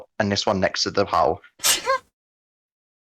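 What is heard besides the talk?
sneeze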